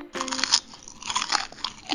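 Crunchy, crisp food being bitten and chewed up close, a sharp first crunch followed by a rapid series of brittle crackling chews.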